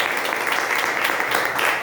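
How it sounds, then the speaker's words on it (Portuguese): A church congregation claps in praise, a dense continuous wash of applause from many hands, fairly loud and close, holding steady across the moment with faint voices mixed in. "Dê uma salva de palmas ao Senhor."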